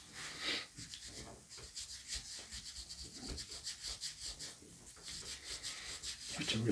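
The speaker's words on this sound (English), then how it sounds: "And then you can also rub the top, if I can just get close enough." The top edge of a vintage paperback is rubbed clean with firm pressure, a close, soft scrubbing in steady back-and-forth strokes, quiet and intimate.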